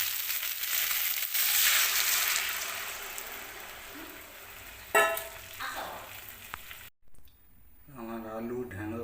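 Water poured into a pan of sizzling fried spice paste for a potato, okra and spiny gourd curry, a loud hiss and crackle that fades, then a short clatter and a voice speaking near the end.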